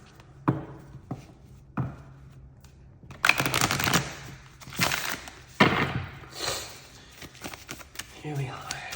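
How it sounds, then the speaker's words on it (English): Oracle cards from a Star Codes Astral Oracle deck being shuffled by hand, giving soft papery riffles and taps at close range, with a few sharper slaps and denser rustling bursts toward the end. "A little bit of a shuffle."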